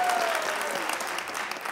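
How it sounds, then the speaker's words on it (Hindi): Audience applause on a Pakistani television game show set, a brief dense burst of clapping that holds steady and fades slightly toward the end. "तालियां बजाओ यार।"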